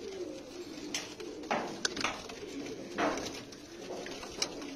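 Pigeons coo repeatedly in soft, low rolling calls, several overlapping phrases spread across the clip at close range with no talking.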